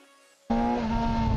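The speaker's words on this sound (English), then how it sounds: "This is just 4-cylinder screamer, and well, watch what happens when you open the throttle." A BMW S 1000 XR four-cylinder motorcycle shifts abruptly from a quiet idle to a loud, high-pitched wailing scream as the throttle opens, then holds that strong, close engine whine.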